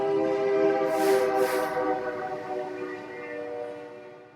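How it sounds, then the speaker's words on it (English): A train passes by, its horn sounding a sustained harmonic blast that slowly fades as the train moves away, with rumbling rail noise beneath and no speech. "that would be a train going by, and it's now gone"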